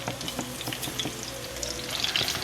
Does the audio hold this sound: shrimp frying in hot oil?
yes